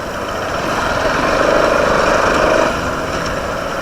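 A motorbike engine drones loudly and steadily while riding across a bridge, the rough engine note swelling slightly midway before easing back.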